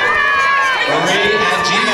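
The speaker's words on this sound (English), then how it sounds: "Cheer on, ladies and gentlemen" Spectators cheer at the women's finals of a karate tournament, a loud, sustained crowd roar with shouting voices that stays at a steady level.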